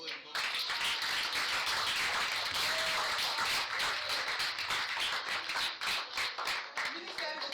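A congregation at a youth church service claps together in a dense, continuous patter of hands, with voices mixed in beneath the applause, thinning slightly toward the end.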